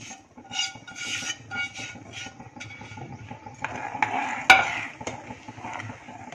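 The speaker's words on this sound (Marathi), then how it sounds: "एकसारखं हलवत राहायचं म्हणजे गुठळ्या होणार नाहीत" Semolina is stirred into boiling milk for kheer, giving a close, scraping rasp of a spoon against the pot in uneven strokes with a few louder clinks.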